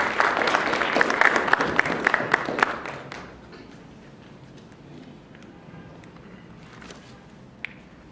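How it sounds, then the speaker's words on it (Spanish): An audience at a finance and business talk gives a short burst of applause that lasts about three seconds, then fades to a quiet room with a few faint rustles and one light knock. "Lo recibimos con un fuerte aplauso."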